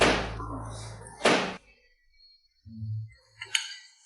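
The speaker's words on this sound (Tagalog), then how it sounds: "Sino kaya yon, ganitong oras? May kumakatok." Knocking on a door at night: a sharp wooden thud or knock rings out after a stretch of talk, followed by quiet, then a low voice and another light tap, heard close indoors.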